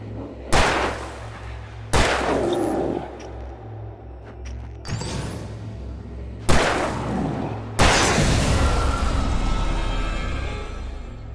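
Gunshots in Alan Wake Remastered, five loud booming shots fired at irregular intervals over a few seconds, each followed by a rumbling echo, with the final one trailing into a long, noisy decay.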